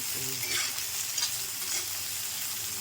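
Onions frying in a pan, a steady close sizzle with faint stirring scrapes, no voices.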